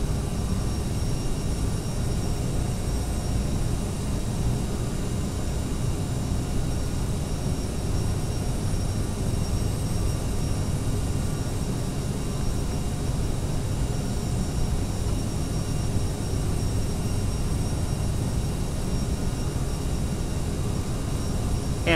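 Airliner engines in flight in the Prepar3d flight simulator, an American Eagle flight out of Charlotte toward Myrtle Beach, give a steady, loud, unbroken cabin roar with a deep rumble that holds level throughout.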